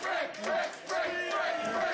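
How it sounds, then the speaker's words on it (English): Wrestling crowd at an independent tag-team match chanting in steady rhythm, a dense wash of many voices filling the arena for the full two seconds at a constant loud level. "The crowd imploring The chant of Brick"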